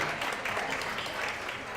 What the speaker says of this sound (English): clap it up, show them love